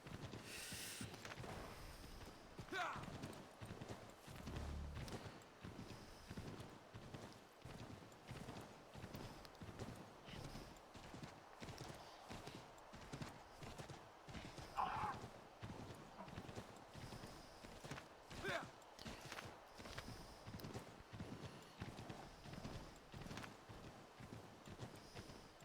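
Horse hooves clip-clop at a steady walking rhythm in the video game Assassin's Creed III, with faint occasional whinnies and quiet background game ambience.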